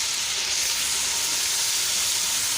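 Loud, steady sizzling of meat frying in a pan after a paste of garlic, ginger, tomato, green chili and onion goes in, a dense continuous hiss with no talking.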